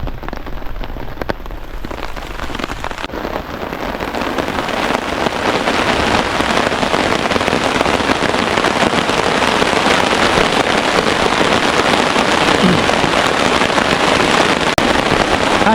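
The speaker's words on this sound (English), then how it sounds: "That's some really heavy rain." Heavy torrential rain drums steadily and loudly on a taut tarp overhead with no wind, a dense continuous patter with no voices.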